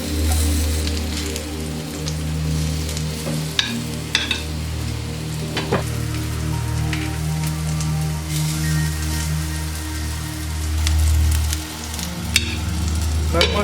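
Vegetables for Georgian ajapsandali fry in a pan with a steady, dense sizzle and crackle, close and fairly loud, with a few sharper pops and clinks of stirring scattered throughout.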